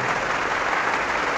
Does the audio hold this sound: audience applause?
yes